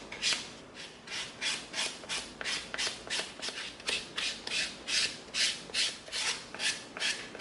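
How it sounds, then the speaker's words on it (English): A 220-grit sanding stick rubs back and forth across EVA foam for a cosplay pistol, giving a steady rhythm of close, raspy strokes, roughly two per second, with no voices. "Now we're going to come in with our 220 sanding stick."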